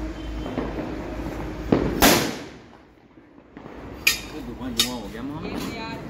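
Diwali firecrackers go off in a few sharp bangs and crackles at close range in a street, with people chatting and shouting between the blasts.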